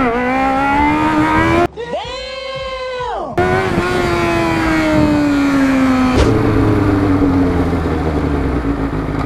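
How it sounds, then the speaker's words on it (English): A motorcycle engine revs hard during a wheelie, loud and close, its droning pitch climbing and sagging with a brief cut-out, then settling into a steady rumble with road noise. "It's time to pop a wheelie."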